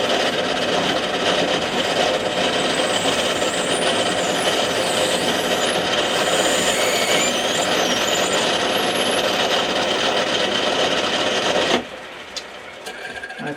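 A drill bores a deep hole lengthwise through a metal body part for a Gauge 1 live steam model engine, a loud, steady grinding whir that cuts off abruptly near the end, leaving quieter shop noise.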